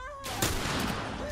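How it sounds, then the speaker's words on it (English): Gunfire from the video game The Last of Us, a sharp shot then a dense burst of broadband blasts and clatter running on, with a voice talking over the shooting. "Right, I'm gonna shoot you right here"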